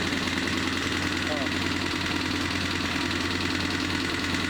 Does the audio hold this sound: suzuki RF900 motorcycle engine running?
yes